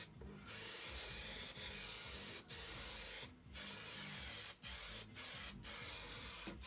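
A spray paint can coating plywood in several sustained bursts of close, loud hissing, separated by short pauses.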